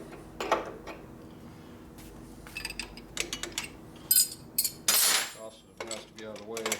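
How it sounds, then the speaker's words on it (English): Metal wrenches, a 5/8 and an 11/16 used for oil lines on a 1957 Harley panhead drag bike, clink and rattle against one another in scattered bursts, close by and fairly loud, with no talking. "5/8 and 11/16, two important wrenches"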